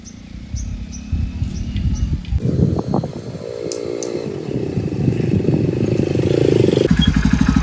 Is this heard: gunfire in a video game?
no